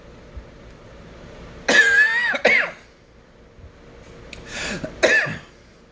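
Two bursts of coughing in quick succession, a pause, then two more harsh coughs, close up with quiet room noise between.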